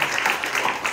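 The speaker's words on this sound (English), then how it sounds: "also want to give a round of applause to our sponsors," Applause for event sponsors at a neighborhood association candidate forum, a brief wash of many hands clapping together, fairly loud and steady throughout.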